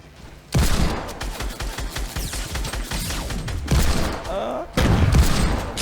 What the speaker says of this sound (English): I was going to go blast him with the shotgun